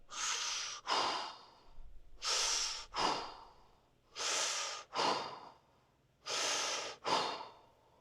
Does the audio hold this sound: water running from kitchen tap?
no